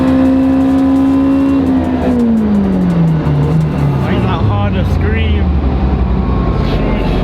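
A tuned, built Honda engine revving on a dynamometer, loud and close, its pitch climbing and falling through pulls with exhaust rasp; a voice talks over it.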